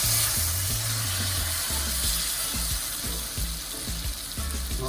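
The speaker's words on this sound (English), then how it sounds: "I'm gonna add a little water to it," Water poured into a hot curry shrimp pot on a smokepot sizzles and spits loudly, a dense frying crackle with bubbling and a low rhythmic rattling underneath, up close and without talk.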